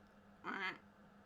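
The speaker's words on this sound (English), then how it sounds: "Stephanie's a duck!" A single short duck quack sound effect, nasal and fairly faint, alone against a quiet background.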